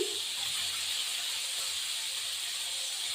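Chopped garlic and ginger sizzle in hot fish oil, giving a steady, even hiss that stays loud and close for the whole stretch with no talking over it.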